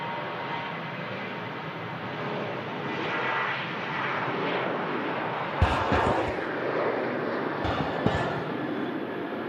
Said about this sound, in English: Ryanair on the roll to Alicante.